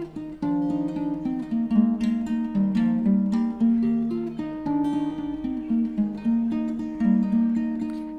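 Acoustic guitar playing the intro of a song, strummed chords with percussive slaps on the strings, steady and close throughout with no speaking.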